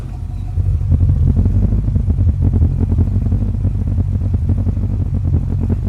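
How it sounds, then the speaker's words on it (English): A car engine idles steadily with a low, even rumble, loud and close, holding the same pitch throughout. "it's been sitting here idling 15, 20 minutes."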